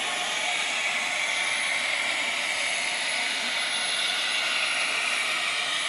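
Steady, loud mechanical whine and broadband roar from an Aces model railroad locomotive engine on a home layout, running continuously without pause and sounding slightly off.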